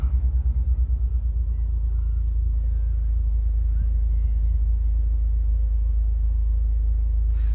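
A TM-square turbocharged Suzuki Swift ZC31S engine idles with a deep, steady low rumble, slightly pulsing at first and then settling into an even, continuous drone close by.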